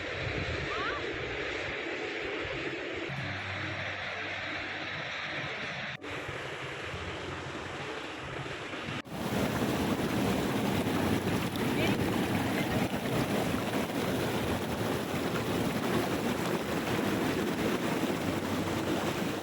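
The Alaknanda river near Badrinath rushes in a steady, loud roar of flowing water with wind buffeting the microphone, growing noticeably louder partway through.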